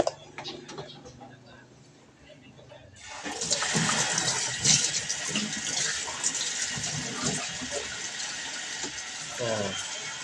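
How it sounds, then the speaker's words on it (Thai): Water gushes loudly and steadily into a washing machine after a drain hose rubber valve has been cleaned, starting abruptly after a quiet moment, with someone talking under the rush. "เปิด น้ำ ใส่ดูนะครับ"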